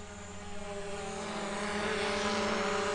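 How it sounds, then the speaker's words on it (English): A DJI Mavic Pro drone passes overhead, its steady buzzing propeller whine holding tonal bands and swelling slightly louder as it approaches, continuous and alone without talk. "There it goes, so you probably heard it going by."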